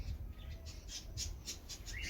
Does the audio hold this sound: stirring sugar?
no